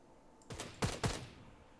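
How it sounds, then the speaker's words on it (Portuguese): Gunfire in the shooter game Knives Out, three or four sharp, fairly loud shots in quick succession, then a short decaying tail, with no talk over them. "Esse maluco tá atirando, mano."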